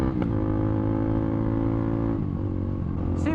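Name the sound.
engine revving at around 6,000 RPM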